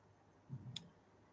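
A single quiet computer mouse click, a brief sharp tick against a low, near-silent background.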